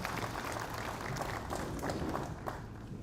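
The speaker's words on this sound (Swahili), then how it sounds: "Tumpigie makofi." Audience applause in a hall during a music festival workshop in Kenya, a steady wash of many hands clapping at an even level, with faint crowd murmur beneath and no pauses across the stretch.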